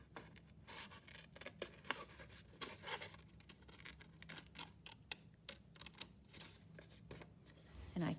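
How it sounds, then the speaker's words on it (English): Scissors snip through paper while a craft shape is cut along a drawn line, giving a quiet series of close, crisp clicks and rustles at an uneven rhythm. "Now, I can get my scissors in there."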